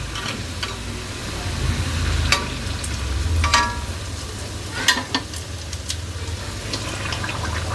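Green chili fritters (mirchi bajji) frying in hot oil with a steady bubbling sizzle, broken by occasional sharp crackles and stirring clinks.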